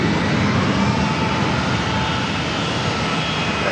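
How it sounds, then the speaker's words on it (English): A KLM Boeing 787-9 Dreamliner arriving from Amsterdam at San Diego airport produces a loud, constant jet roar filling the short stretch without a break and with no talk over it. "That was a 787-9 Dreamliner with KLM arriving from Amsterdam."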